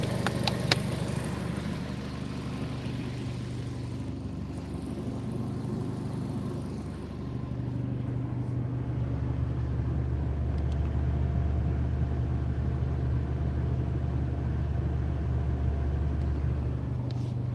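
A car engine runs steadily during a cooling system flush, giving a continuous low rumble like an idle. The pitch shifts slightly partway through, and the engine is heard alone with no talk.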